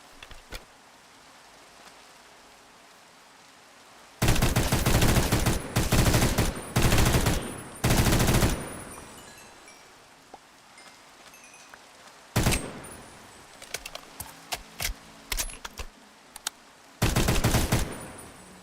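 Modded guns fire in a Minecraft game, with loud bursts of rapid automatic gunfire in several clusters separated by quieter gaps of ambient game sound.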